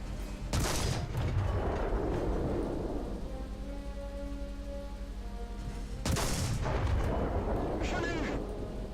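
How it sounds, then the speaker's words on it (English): A French tank's autoloading cannon in War Thunder fires two loud, sharp blasts about five seconds apart. Each shot has a long rumbling tail, and a mechanical reloading whine sits between them. "Now let's test out one of these autoloaders."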